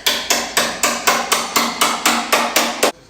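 Steady hammer blows split apart a car door skin held on by adhesive rather than welds, about a dozen sharp metallic strikes in an even rhythm, close and loud with no talking.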